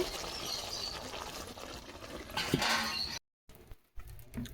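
Spicy Kashmiri aloo dum being poured out of a pan, giving a soft, close, wet sliding and patter that swells near the end before a brief silence and a few faint clatters.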